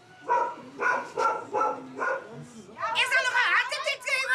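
A dog in a gang-squatted house barks several times in a steady rhythm, close and loud, followed by a stretch of excited whining or yelping with raised pitch; human speech may be mixed in.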